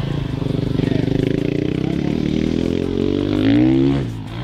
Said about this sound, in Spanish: ¡Mira la moto!